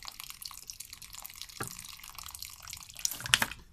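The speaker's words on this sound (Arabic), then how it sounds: "اسهل طريقه بحب اعملها ان انا اروي الشويه اللي في النص دول لوحدهم" Water trickles and drips onto loose potting soil around an ornamental plant, a soft, quiet splashing with a brief louder pour near the end.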